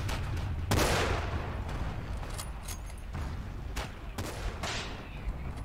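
Gunfire in the Forgotten Hope 2 video game, with a Springfield snap rifle shooting amid a dense battlefield din, sharp cracks standing out over continuous background rumble and distant shots.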